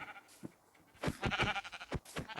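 A Minecraft sheep bleats several times in quick wavering calls, fairly close, with a soft thud or two before the bleating starts.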